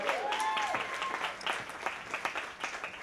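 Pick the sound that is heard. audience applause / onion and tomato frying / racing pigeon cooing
audience applause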